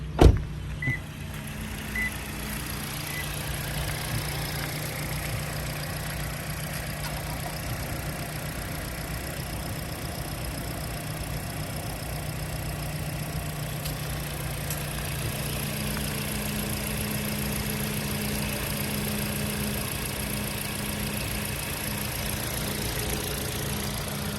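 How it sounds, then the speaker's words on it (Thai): A 2019 Toyota Corolla Altis 1.8 GR Sport engine with 40,000 km idles steadily with a low, even hum and faint mechanical whir, continuous and unchanging after a brief click at the start. "มาฟังเสียงเครื่องกันสักเล็กน้อย"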